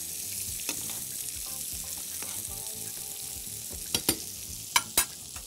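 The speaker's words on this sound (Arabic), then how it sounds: "حط كده شوية من الزبدة على السمك" Fish frying in butter in a pan, making a steady, moderate sizzle throughout with a few sharper pops and crackles near the end; no voices.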